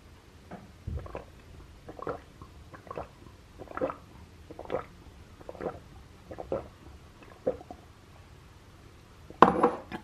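A fork clinks and scrapes against a glass in a rhythmic series of light taps while stirring a drink, ending in a sharper clatter.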